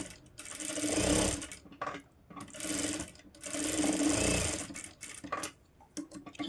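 A sewing machine stitches the side seam of a blouse in several bursts of rapid whirring, each a second or two long, separated by short pauses, close and fairly loud.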